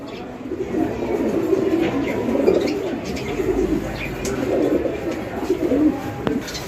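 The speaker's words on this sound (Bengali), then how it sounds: "এখানে চমৎকার আরও একজোড়া কবুতরের কালেকশন রয়েছে" Tumbler pigeons coo steadily in low, throaty rolling calls, close by, with a constant background hum and no talking.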